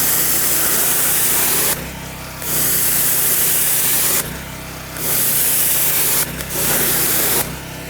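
Loud hissing jet of a pressure washer cleaning a large wooden deck, running in long bursts broken by three brief pauses, with no voices.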